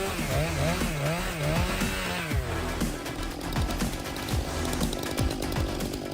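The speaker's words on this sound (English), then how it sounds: "the Stylemis's 661 chainsaw with 28-inch bar conquers the forestry sector with its incredible" A Stihl MS 661 chainsaw with a 28-inch bar and 7.3 HP engine roars up and down in pitch, then settles into a loud, steady snarl as it bites into wood on a big tree-felling job.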